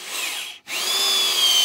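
Power drill driving screws into a wooden landscape stair, a loud steady whine that briefly cuts out mid-run and then resumes at full speed.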